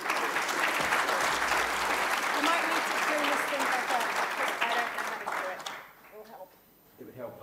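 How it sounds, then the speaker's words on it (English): Conference audience applauding a speaker at DDD Perth, a dense steady clapping that fades out near the end, leaving a quieter room with faint voices. "big round of applause for Michele"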